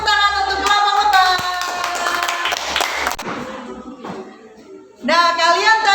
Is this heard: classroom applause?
yes